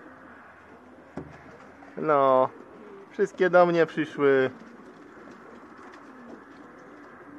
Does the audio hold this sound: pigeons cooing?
yes